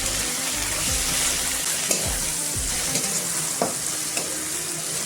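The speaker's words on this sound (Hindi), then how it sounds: "ये टमाटो ऐड कर देंगे और 2 मिनट में पकाएंगे।" Tomato pieces hiss and sizzle in a hot pan with bay leaf, a steady close frying crackle broken by several sharp spoon scrapes and taps against the pan as they are stirred.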